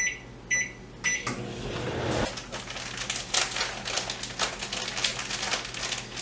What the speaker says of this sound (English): Now I'm putting that in the microwave so it can melt.